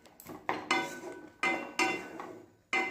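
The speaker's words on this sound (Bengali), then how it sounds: "এবার খুন্তি দিয়ে নাড়াচাড়া করে আবারও একবার সব কিছু ভালো করে মিক্স করে নিচ্ছি" A metal spatula stirs chopped onion and green chili in a pan, about six close, sharp clanks and scrapes against the pan in an uneven rhythm, with no talk.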